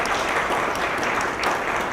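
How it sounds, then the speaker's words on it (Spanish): Sustained audience applause at the closing ceremony of a personal data protection diploma course, honoring its academics; even and moderately loud throughout. "otro aplauso para todos los académicos que nos ayudaron en este diplomado"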